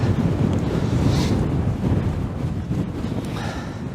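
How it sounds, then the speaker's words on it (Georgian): Strong wind gusts outdoors, buffeting the microphone with a steady low roar that continues throughout with no talking. "ერთს გეტყვით რა ქარი ქრის"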